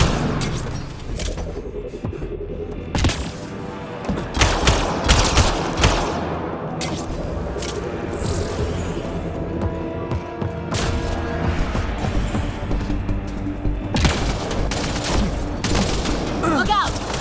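A firefight in the video game Mass Effect Andromeda, with repeated bursts of gunfire and heavy impacts scattered across a dense, busy mix of combat noise and shouting voices.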